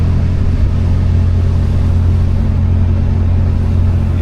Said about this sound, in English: Let's give this some RPM. Put up to about 1500.